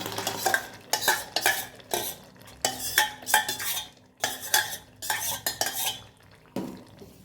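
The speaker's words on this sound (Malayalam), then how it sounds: "നന്നായിട്ട് വേവിക്കാം, ഇളക്കണം, നന്നായിട്ട് ഇളക്കി കൊടുക്കാം." A spoon stirs sago and carrot payasam in a metal pot, with repeated bursts of scraping and clinking against the sides in an uneven rhythm and brief pauses between strokes, close and clear.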